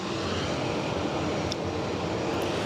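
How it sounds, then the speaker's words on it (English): An Air Serbia airliner lines up on the runway at Zurich Airport, its engines giving a steady, broad roar from a distance that holds level throughout with no talking. "Just lining up on the active now, Eddie."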